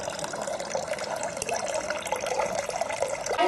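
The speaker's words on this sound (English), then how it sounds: "It's a waterfall." Water pours steadily down a homemade science project waterfall, a continuous splashing trickle close by with no talk over it.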